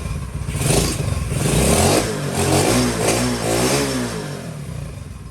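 A Honda CT70 with a Lifan 125 engine idles and revs unevenly nearby, a steady rumbling drone with rising and falling pitch throughout.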